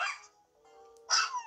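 Golden Retriever barking in the Nintendogs video game: two short, bright yips separated by a brief whining tone, close and clear, with no talking.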